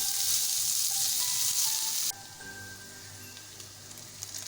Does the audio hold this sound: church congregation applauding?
no